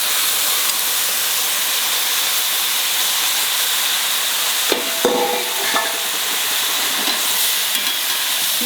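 Tomatoes frying in a pan over a medium flame for tomato chutney, giving a steady, close hiss of sizzling oil throughout, with a few brief stirring clinks partway through and no voices.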